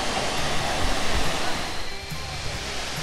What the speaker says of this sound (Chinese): 你听这个水声，哇，水声好大哦